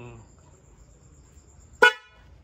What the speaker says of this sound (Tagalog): Dahil gabi na, konti-konting busina lang.